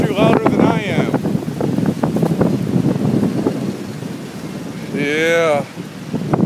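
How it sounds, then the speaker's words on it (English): Strong outdoor wind buffets the microphone with a continuous low roar, while someone talks loudly over it and a wavering, siren-like tone rises near the end under darkening storm skies. "Damn you, wind. I bet you're louder than I am."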